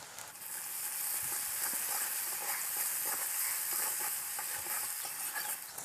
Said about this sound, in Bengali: গোটা শুকনো লঙ্কা, 5 ফোড়ন, কুচানো পেঁয়াজ দিয়ে দিলাম।